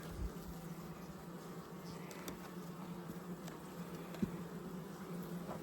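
Honeybees drone steadily around an opened hive during queen installation, a continuous close buzzing hum with a few brief knocks and clicks.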